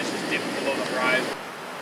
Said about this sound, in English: We have set up camp beside this really sweeping set of waterfall here.